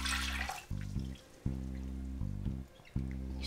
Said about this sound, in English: So now we're going to add 2 cups of vegetable broth, low sodium.